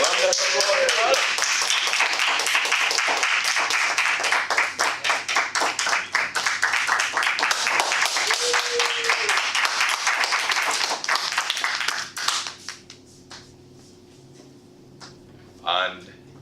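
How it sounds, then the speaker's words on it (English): A round of applause for a table topics winner at a Toastmasters club meeting: dense, rhythmic clapping from a small room audience for about twelve seconds, then tapering off into quiet with a brief voice near the end. "A round of applause for Alex."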